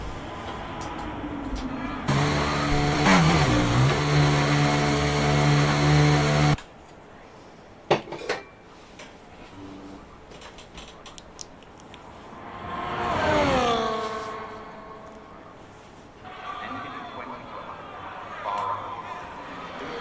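Race cars in a qualifying session at Jeddah roar past with rising and falling engine tones, one loud pass early and another swelling mid-way, under continuous commentary.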